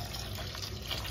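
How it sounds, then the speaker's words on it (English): Tap water running into a tub, a steady soft hiss and trickle throughout, fairly faint and unbroken, with no talking. "Let me cut the water on."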